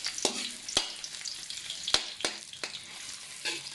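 Onions sautéing in vegetable oil in a pan, soft sizzling with a few sharp stirring clicks and scrapes at irregular intervals, close but fairly quiet, with no voices.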